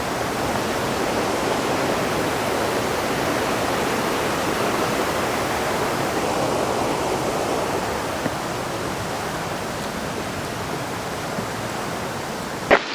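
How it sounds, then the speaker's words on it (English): Broad steady roar of water at a waterfall along a hiking trail with many stairs in Slovenia, continuous and full-bodied for the whole stretch, with no talking over it. "let's go do this hike and see what this waterfall is all about"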